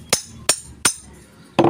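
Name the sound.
hammering an electric fan rotor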